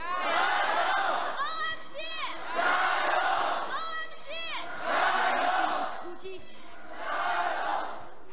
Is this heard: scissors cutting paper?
no